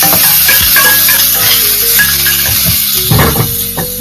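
Garlic, onion and tomato fry with fenugreek seeds in a home kitchen pan, a steady close sizzle with scattered stirring clinks and scrapes running throughout without talk.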